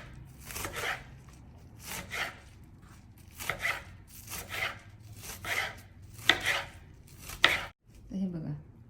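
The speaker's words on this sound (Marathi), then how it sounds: "तर बाकीची पण उरलेली आपण चिरून घेऊया." Mustard greens for sarson saag are chopped finely with a knife on a board, a close series of rapid scraping cuts in bursts of roughly one per second, with a brief pause near the end.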